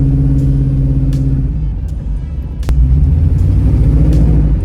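A 1978 Camaro on freshly replaced leaf springs and shocks rumbles steadily while driving, its engine tone dropping briefly before a deeper surge of revving as the car accelerates out of a turn, close and loud.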